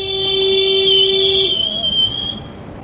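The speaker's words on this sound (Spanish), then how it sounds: "no solo te responde el silbido, sino que te lo responde con el mismo sonido que vos lo hiciste" In Mexicali, Baja California, a loud, clear whistled tone holds steady, then a second higher whistle answers it and trails off, with quiet background noise beneath.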